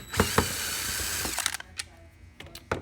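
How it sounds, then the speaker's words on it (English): Power drill backing Phillips screws out of a vacuum motor cover, heard as a short whirring run with a couple of sharp ratcheting clicks, fairly quiet and close, then fading into a few light handling taps. "He's so cavalier with a drill."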